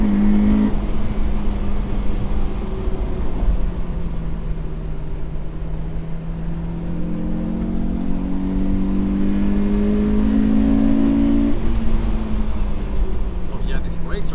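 A track-modified Honda S2000 AP1 engine revs hard on a circuit toward its 9,000 RPM redline, its pitch climbing and falling through loud sustained pulls, with a voice speaking over it.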